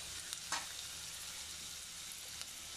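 Garlic and ginger crackle and sizzle softly in hot oil for a small-fish curry, a continuous quiet frying hiss with a few faint stirring ticks.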